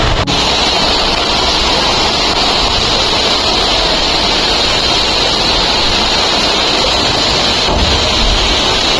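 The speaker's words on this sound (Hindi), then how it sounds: "यहाँ बहुत ही ज़्यादा बारिश हो रही है, इतनी बारिश।" Heavy rain pours down on a flooded housing society in Punjab, a loud, dense and unbroken roar close to the microphone with no voices over it.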